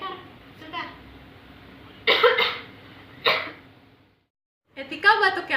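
A person coughs in a few short, close bursts separated by pauses, in an indoor setting with light background noise.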